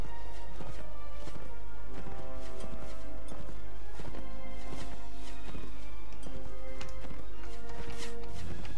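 Horse hooves clip-clop steadily up a slope in the Mount and Blade Warband video game, a loud, rhythmic clatter of footfalls over a constant low hum from start to finish.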